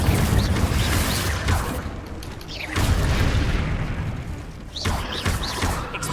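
Confringo blasting spells explode in Hogwarts Legacy combat, a run of deep booms and crashing blasts that rise and fall over several seconds, loud and close within busy game action.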